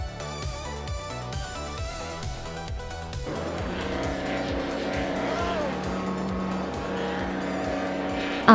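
Race cars pulling away at the start of a race at New Jersey Motorsports Park, a steady loud engine roar with rising revs and tire noise, several cars blending into one sustained drone.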